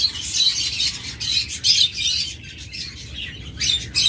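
Lovebirds kept for sale chirp in rapid, bright bursts of tweets that come and go, leaving short quieter gaps between the close, lively calls.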